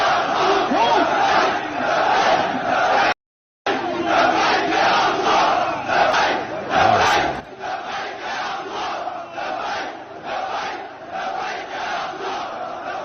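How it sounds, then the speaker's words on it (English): A dense, loud crowd of Palestinians cheers and chants at Al-Aqsa, a continuous roar of many voices with a brief cut partway through. "So that's Palestinians cheering at Al-Aqsa."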